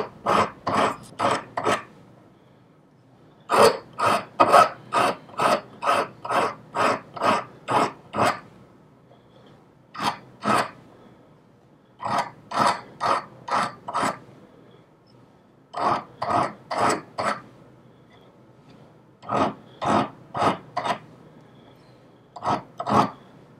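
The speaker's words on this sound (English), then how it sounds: "I've changed my grip and I'm filing from the inside out, as here." A hand file rasps across a small metal Japanese decorative seppa spacer in quick bursts of regular back-and-forth strokes, close and clear, with short pauses between groups.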